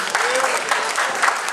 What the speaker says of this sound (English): big round of applause, give it up for Craig!